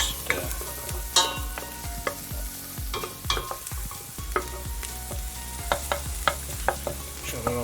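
Chicken Madras curry being stirred in a pan, a steady sizzle broken by repeated sharp scraping and knocking strokes of the spoon, close and without talk.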